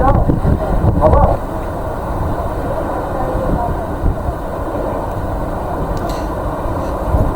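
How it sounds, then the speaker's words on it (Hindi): Strong gusty wind from Cyclone Yaas roars and buffets the microphone with a loud, continuous rumbling rush, heaviest at the start, with a faint hiss that may be rain. "भारी बारिश का दौर जारी है, तेज हवाएं चल रही है।"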